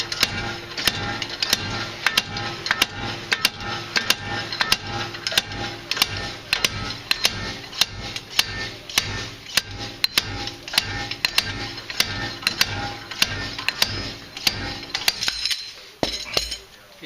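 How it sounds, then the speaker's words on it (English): Slide hammer pulling a front wheel bearing on a Subaru: a long run of sharp metallic clanks at a steady rhythm, about one or two per second, close and distinct, stopping just before the end. "let's hit it with a slide hammer"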